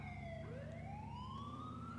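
Police car siren in the video game GTA 4 wails with a rising, sweeping tone, fairly faint and distant over a low engine rumble.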